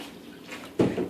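Water from a large cup pours into a smoothie blender jar, a brief splashing gush that swells loudly near the end, close by.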